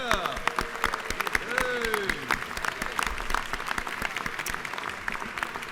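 A crowd applauds in the Georgia House of Representatives chamber, a burst of dense clapping that carries on for several seconds at a steady, lively level.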